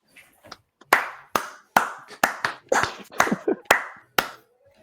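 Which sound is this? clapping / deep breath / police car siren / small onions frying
clapping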